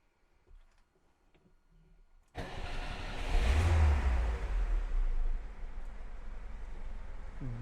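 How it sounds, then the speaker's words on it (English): A 1977 Lada Niva (VAZ 2121) 4x4 cranks and fires up after a couple of quiet seconds in a shop, surges briefly, then settles into a steady, even idle close to the microphone. "clean idle. Clean, I mean no shaking, stable. Great running engine."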